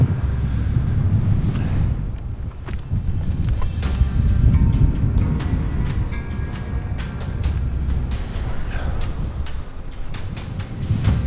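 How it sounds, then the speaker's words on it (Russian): Strong mountain wind buffets the microphone in low, rumbling gusts, with faint rustling and scattered clicks over the steady roar. "Ветер продувает, приходится шапки одевать."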